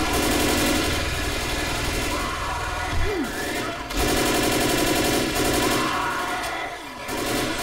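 Rapid automatic gunfire in the co-op zombie shooter Left 4 Dead, sustained bursts over a low rumbling background, loud and close throughout with brief pauses.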